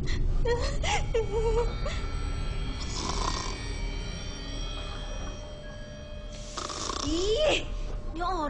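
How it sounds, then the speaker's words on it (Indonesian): A sleeping person snores loudly in repeated drawn-out breaths, with whimpering and whistling vocal sounds rising over the snores and a faint voice nearby. "ini orang tidur ngorok berisik banget sih"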